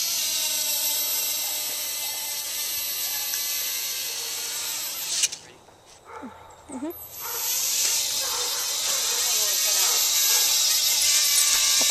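A Traxxas QR-1 small remote-control helicopter whines with a high, steady motor buzz that cuts out briefly midway, then resumes at full strength.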